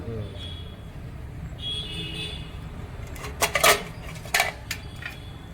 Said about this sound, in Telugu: మూత పెట్టుకోవడం